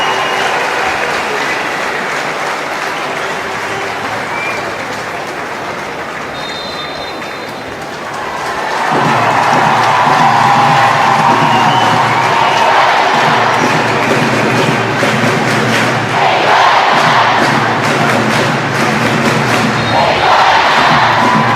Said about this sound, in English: A big cheer goes round the King Power Stadium.